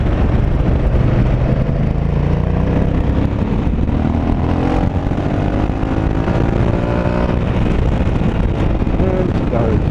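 A 2020 Honda Africa Twin motorcycle is ridden through traffic, its steady engine drone buried under a constant, loud wind roar, with faint rising engine tones as it filters between vehicles.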